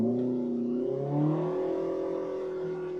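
Polaris RZR Pro R with an MBRP slip-on muffler revving up crisply and quickly, then holding a steady raspy drone, close and clear with no talking.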